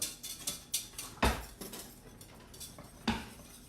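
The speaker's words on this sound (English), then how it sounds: "So Suzy is whisking away." A large whisk beats bechamel sauce in a pan, giving quick, uneven metallic scrapes and clicks against the pan, with a few sharper knocks close by.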